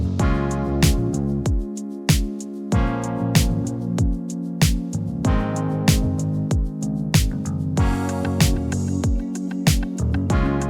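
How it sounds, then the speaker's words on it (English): A denser 80s-pop and disco groove builds as electric guitar, a busy percussion loop and open hi-hats join the bass, keys and drums. The mix is full and continuous, with bright cymbal wash and strong recurring snare accents. "I brought in that electric guitar, I brought in the percussion loop, and I brought in the open hats."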